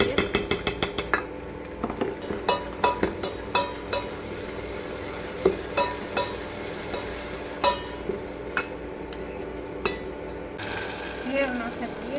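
Onion, garlic and chili frying in oil with spices in a home kitchen: a steady sizzle under repeated clinks and scrapes of a stirring spoon against the pan, close and moderately loud.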